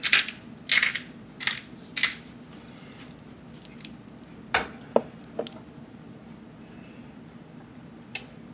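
Pepper ground onto a raw chicken breast, heard as short crunchy grinding bursts in a loose sequence, fairly close, with quieter pauses between them and no talking.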